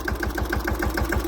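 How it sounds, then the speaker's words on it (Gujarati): A tractor engine runs in a cumin field with a steady, rhythmic knocking throb, loud and close, without pause through the short stretch. "પહેલાં આ ખેતરમાં ટ્રેક્ટર વયું જાય"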